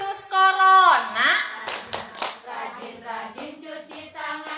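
Kindergarten teachers clap a rhythmic hand-clapping chant about preventing the coronavirus during a training session, with quick patterned claps mixed with sung and spoken voices.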